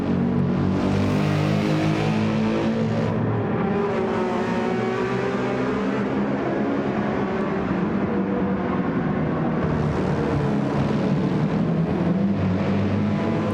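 Race car engine howls continuously at the Barcelona circuit in a racing video game, a loud steady drone with shifting pitch as the car pushes on, no talking over it.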